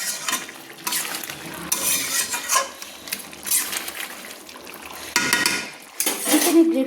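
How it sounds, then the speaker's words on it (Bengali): A spoon stirs chicken in a pan for chicken do pyaza, making repeated scraping and clinking against the metal over a soft frying hiss, in uneven bursts close to the microphone, with no talking. "চিকেনটাকে সুন্দর করে আমি কিন্তু নেড়ে নিচ্ছি।"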